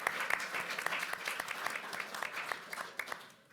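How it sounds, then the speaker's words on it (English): Audience applause for a presenter named Beverly at a CPAC 2019 session, a steady wash of many hands clapping close by that tapers off near the end. "Let's give Beverly a round of applause."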